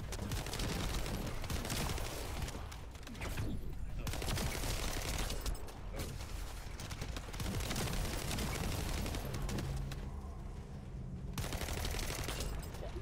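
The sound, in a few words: gunfire from the video game The First Descendant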